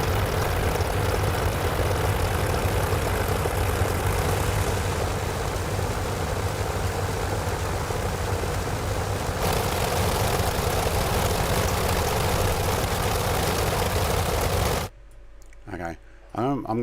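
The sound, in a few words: Jenny aircraft engine, from video game Microsoft Flight Simulator 2024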